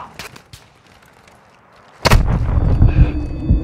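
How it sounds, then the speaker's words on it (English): Gunfire in the Call of Duty Modern Warfare 2 video game: a few distant shots at first, then a sudden heavy blast that launches a loud, sustained rumble of rapid fire and explosions. "You are taking effective fire."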